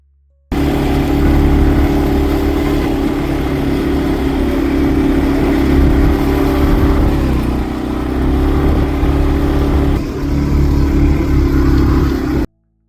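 A motorbike carrying riders up the road to a temple in Solang Valley near Manali, its engine droning loud and steady with wind rush throughout, cutting off abruptly at the end, no talk.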